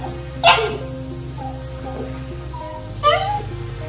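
A small Maltese dog barks twice, sharp and loud, with a long pause between the barks and faint background hum.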